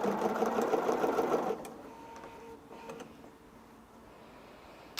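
Sewing machine stitching a Christmas quilt, a fast mechanical whirring run that stops abruptly after a second and a half, leaving quiet room tone with a few faint clicks, close.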